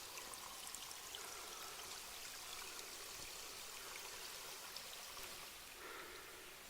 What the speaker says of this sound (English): there's a little creek at the bottom